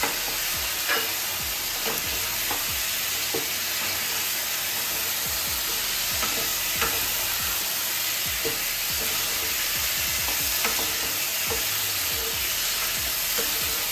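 Spice paste fries in oil while vermicelli is stirred through it in a pan for a Bengali shemai potol dish, giving a steady loud sizzle with regular scraping stir strokes throughout, no voices.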